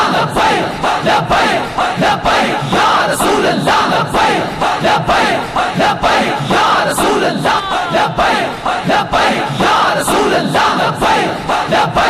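A large crowd at a religious naat gathering roars a loud, sustained chanted slogan in unison, voices swelling in repeated rhythmic waves that fill the space without a break.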